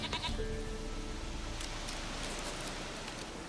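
A goat bleats in The Witcher 3: Wild Hunt, a short nasal bleat near the start over a soft, steady rain-like ambience, then only the background hiss continues.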